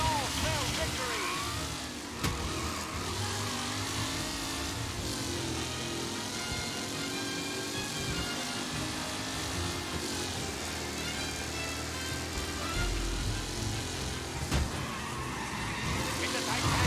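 Race cars in the video game Mafia Definitive Edition roar and skid throughout, engines droning with squealing tires, steady and loud, with a commentator's voice running over the action.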